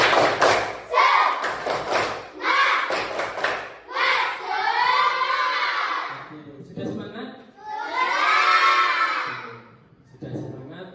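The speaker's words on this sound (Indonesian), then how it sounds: "Ayo, 1, 2, 3, tepuk semangat." A class performs a rhythmic spirit clap cheer: patterned bursts of sharp group claps alternate with loud chanted voices of the students, ending in a final clap burst.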